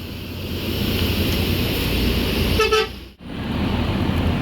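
A V68 intercity coach pulls out of a bus terminal in West Sumatra and gives one loud, sustained honk of its multi-tone horn over steady engine and traffic rumble, then the sound cuts out briefly.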